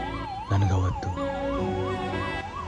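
An ambulance siren wails close and loud in steady rising and falling cycles. Brief bursts of traffic or vehicle noise cut in near the start.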